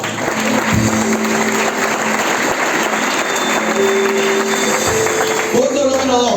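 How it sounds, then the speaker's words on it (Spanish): A church congregation claps in a loud, steady burst of applause for Jesus, with voices and musical tones mixed in beneath the clapping. "¿Cuánto le damos aplausos a Jesús?"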